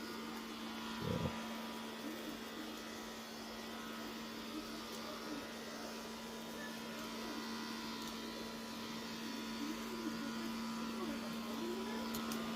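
A carpet-cleaning sprayer machine hums steadily and quietly throughout, a constant mechanical drone with a brief knock near the start, used while cleaning heavily soiled carpet in two rooms and stairs.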